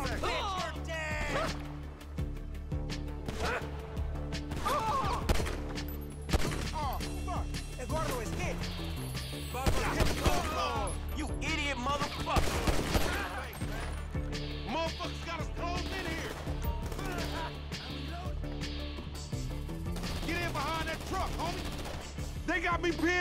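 Gunfire in the video game GTA V story mode, with repeated gunshot bursts and crashes scattered through a dense game soundtrack, while characters talk loudly over much of it.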